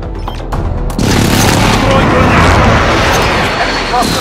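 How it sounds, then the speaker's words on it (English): A precision airstrike in Call of Duty Warzone on Rebirth Island lands as a heavy, loud boom about a second in, followed by a dense rolling wall of blasts and rumble that continues to the end. "Be advised, friendly precision airstrike inbound."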